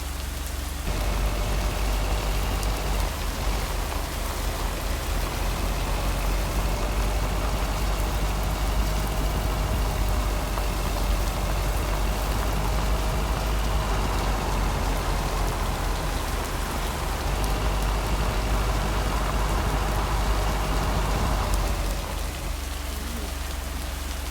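Steady, heavy rain falls in the video game Lake, an even wash of drops on surfaces with a low rumble beneath it, lasting over twenty seconds before it fades near the end.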